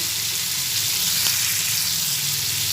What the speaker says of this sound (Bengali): মশলাটা ভালোভাবে ভেজে নিচ্ছি